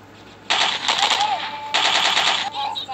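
Rapid automatic gunfire from a strong weapon in the Milk Choco shooter game comes in two loud sustained bursts, with a shorter burst trailing at the end.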